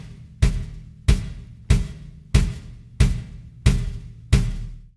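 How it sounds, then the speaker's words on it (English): Bass drum part of a polyrhythmic drum groove: seven solo kick hits spaced evenly about two-thirds of a second apart, each a punchy low thump with a decaying boom, close and unaccompanied. "the bass drum part, if I just play it, sounds like this"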